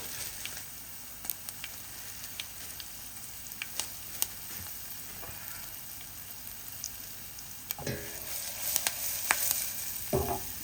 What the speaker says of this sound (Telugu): చారు కాబట్టి కొద్దిగా కరివేపాకు వేస్తున్నాను